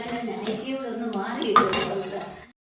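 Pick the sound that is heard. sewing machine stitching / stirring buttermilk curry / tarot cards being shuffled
stirring buttermilk curry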